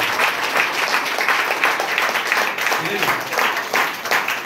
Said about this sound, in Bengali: একসাথে একটা হাততালি দাও নিজেদের জন্য